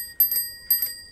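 Cheap Huffy bell on an electric bike rung in two quick double dings, bright metallic pings with a lingering ring, close and loud.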